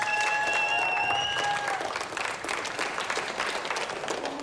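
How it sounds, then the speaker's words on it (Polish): An audience breaks into sustained applause in a studio game-show setting, dense clapping filling the whole stretch with a few whistles or tones early on, fairly close and even. "Karolina Stelmaszczyk, brawa!"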